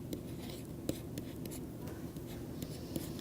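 Writing during a math lecture on determinants: steady scratchy strokes, with scattered sharper taps as marks are made, heard close over a constant low room hum, with no clear speech.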